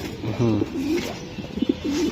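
Racing pigeons cooing close by, several short throaty coos in quick succession, rising and falling, fairly clear against a low background.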